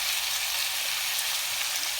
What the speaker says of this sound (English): So now I'm gonna add soy sauce